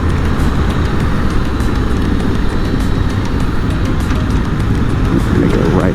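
An Aprilia Tuono V4 motorcycle ridden on the road, its V4 engine giving a steady, loud, continuous drone throughout, heard close up from the rider's position, with wind noise mixed in.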